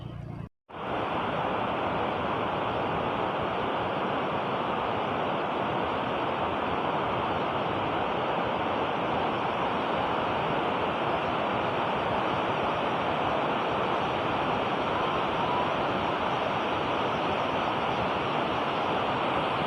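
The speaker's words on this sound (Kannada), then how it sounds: "ಈಗ ಜಲಪಾತದ ಮೇಲಿದ್ದೀನಿ" Godachinmalki waterfall at Gokak, a loud unbroken roar of rushing water heard from above the falls, constant and close after a brief cut at the start.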